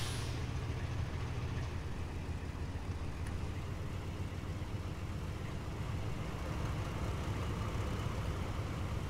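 Class 58 diesel locomotive hauling HAA wagons in Train Simulator 2021, brakes releasing with a steady airy hiss over a low idling engine rumble, constant and moderately quiet, no talking.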